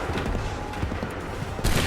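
A musket volley in Assassin's Creed 3 crackles as a dense burst of gunfire, ragged overlapping shots with a sharp loud crack at the end.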